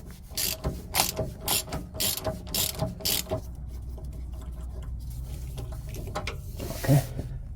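A ratchet fitted with a small extension works an 11 mm bolt loose, giving a close, rapid series of clicking pawl bursts in short strokes before the clicking fades into quiet handling noise.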